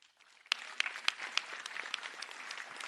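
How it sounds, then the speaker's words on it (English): Audience applause at a DeKalb County, Georgia committee meeting: a sparse round of clapping with sharp individual claps over a soft patter, fairly quiet and steady throughout. "So give yourself a round of applause"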